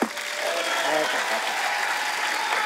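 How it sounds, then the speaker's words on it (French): A burst of audience applause at a comedy festival magic show, used to vote, starting abruptly and holding as a steady clapping crowd, with some voices mixed in. "Ceux qui veulent garder la droite, vous applaudissez."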